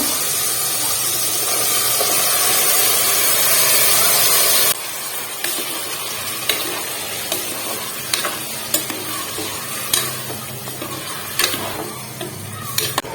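Marinated soya chunks sizzling in hot oil for soya chunks biryani, first as a loud, continuous frying hiss, then quieter with repeated sharp clinks and scrapes of stirring in the pan.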